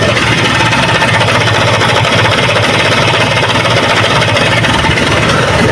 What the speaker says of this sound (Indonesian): ini mesin udah beres, cuman ownernya sempat membeli kopling baru merek inisial D ya, dan ini saya coba nyalakan seperti ini suaranya